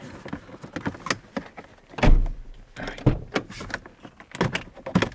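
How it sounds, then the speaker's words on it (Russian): A Toyota Vitz car door being opened, with a cluster of clicks, latch thunks and rattling panel handling sounds in irregular bursts, close by and fairly loud, with no talking. "чтобы это вытащить, лучше открыть дверь."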